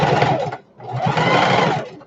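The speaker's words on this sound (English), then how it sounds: "Now I'm going to stitch that down using less than a ½ inch seam," Close and loud, a sewing machine runs a seam on a shoulder bag in two steady bursts of motor whir split by a brief pause.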